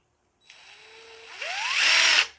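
A basic-model DeWalt impact driver with a variable speed trigger whirs up alone, its pitch rising as the trigger is squeezed harder, then cuts off abruptly after about two seconds.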